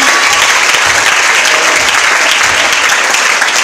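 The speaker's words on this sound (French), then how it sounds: "Tu ne peux pas acclamer fortement Jésus" A church congregation applauds loudly and continuously for Jesus, a dense roar of clapping from a large crowd with faint voices mixed in.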